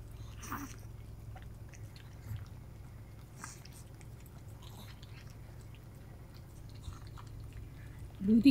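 A dog chews and bites its food at a campsite. The soft, faint chewing and crunching sounds come in small bursts over a low steady hum, with a slightly louder bit of chewing at the end.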